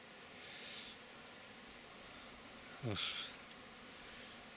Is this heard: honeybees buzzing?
yes